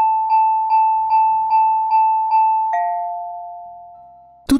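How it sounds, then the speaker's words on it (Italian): An electronic doorbell chimes again and again in quick succession, six or seven rapid rings, then one final long tone fades out before a sharp knock. "Il campanello prese a suonare insistentemente."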